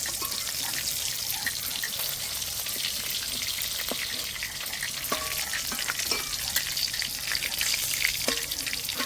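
Rohu fish pieces fry in hot oil with a continuous dense sizzle and crackle, a few soft clinks and stirring touches, and no talk.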